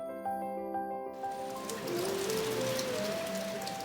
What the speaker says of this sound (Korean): 가을을 재촉하는 비가 내리던 날